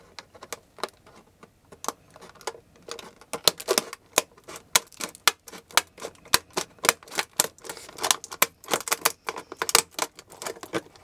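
Scissors snipping open a still-sealed package during an unboxing, a run of sharp irregular clicks and snips, close and fairly quiet, with no talking.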